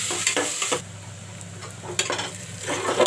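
Chopped onions sizzle in a pan for mutton curry while a utensil stirs them in bursts, with scraping strokes at the start, middle and end over a continuous frying hiss.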